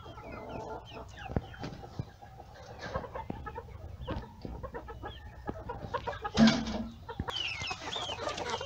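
Crested caipira chickens in an ornamental poultry pen cluck in quick, scattered bursts, with several birds calling near and far and a louder squawk toward the end.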